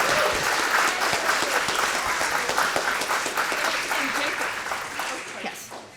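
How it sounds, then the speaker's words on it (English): An audience at a university thesis competition applauds loudly and steadily, many hands clapping together, then the clapping gradually thins and fades toward the end. "Please give them a round of applause."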